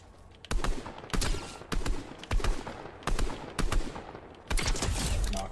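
Bursts of gunfire in Fortnite: six or seven sharp volleys of rapid shots, each a short loud burst separated by brief gaps, fairly close, with no talking.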